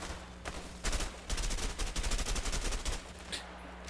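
Rapid bursts of automatic gunfire from a Mexican shootout in the video game A Way Out, dense volleys with brief pauses between them, loud and close with no talk over the shots.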